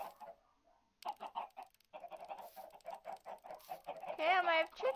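Chickens cluck in a rapid, irregular series of close, fairly faint clucks, ending in a louder squawk.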